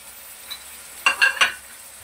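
Chopped tomatoes drop into a hot sizzling pan while cooking chicken and cauliflower gravy, giving a short burst of hissing and crackling from about the one-second mark over a low steady sizzle, close and fairly loud, with no talk.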